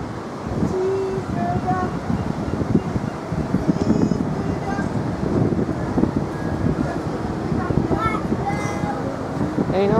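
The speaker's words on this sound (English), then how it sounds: "Ain't off windy up here" Strong wind buffets the microphone high up on Blackpool Tower, a steady roaring rush that runs the whole time, with people talking close by underneath it.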